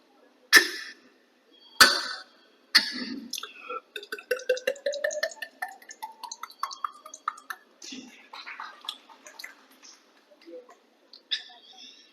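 A mimicry performer at the Kozhikode district kalolsavam voices a tender coconut being hacked open with a few sharp chops, then a rising gurgling pour into a glass, ending in scattered clicks and drips.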